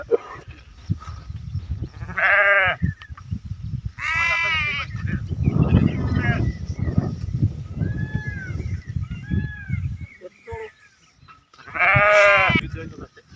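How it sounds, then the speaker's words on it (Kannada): A large flock of about 600 sheep bleating during vaccination injections, several loud drawn-out bleats close by, with background murmur and people talking in between. "ಇವತ್ತು ಆರ್ನೂರು ಕುರಿಗೆ ಇಂಜೆಕ್ಷನ್ ಮಾಡ್ತಾರೆ"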